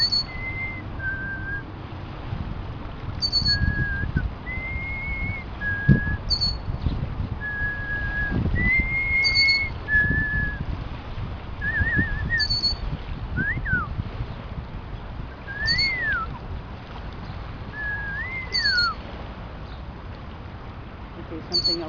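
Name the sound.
person imitating a bird call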